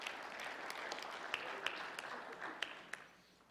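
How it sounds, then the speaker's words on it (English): Audience applause in a hall, a steady clatter of many hands lasting a few seconds with a few sharper claps standing out, fading toward the end. "give them a round of applause"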